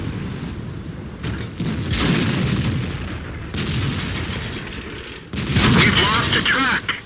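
Tank cannon fire in World of Tanks, a booming shot punching through two tanks and knocking a track off, heard as several heavy blasts with rumbling tails and crackling impacts, loud and close.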